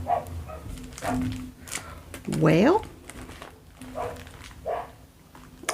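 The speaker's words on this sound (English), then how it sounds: "Oh, there go the dogs." Dogs in the background give a single short, bark-like yelp that rises in pitch, heard under a person's ongoing talk.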